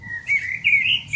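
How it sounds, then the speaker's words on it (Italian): Small birds sing in high, bright chirps and warbling phrases, with several notes in quick succession, heard from outside near a small cave-like hut. "Ascolto il canto degli uccelli"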